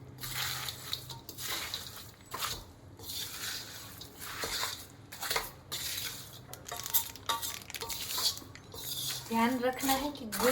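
Gond ladoo mixture with warm jaggery being stirred and mixed in a pan with the gas off, scraping and clinking of a spoon against the pan throughout, close and steady, with some talk over it.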